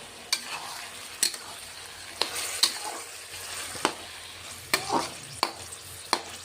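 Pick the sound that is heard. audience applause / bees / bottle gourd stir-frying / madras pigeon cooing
bottle gourd stir-frying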